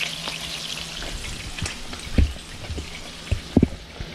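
Pork ribs fry in a pan with a steady close sizzle and crackle, broken by a few louder pops and scraping knocks as they are stirred.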